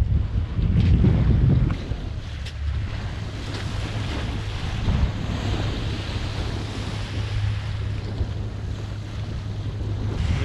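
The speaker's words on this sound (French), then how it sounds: "Impressionnant ces ferries qui vont à une allure pas croyable" Fast ferry running between Ibiza and Formentera at open sea, a steady broad roar of engine and rushing water with wind buffeting the microphone, louder at the start and then holding level throughout.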